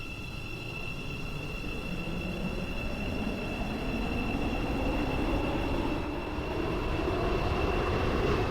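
A Roblox Stepford County Railway metro train runs steadily with a smooth, even drone and a few sustained whining tones, gradually growing slightly louder over the stretch, with no voices.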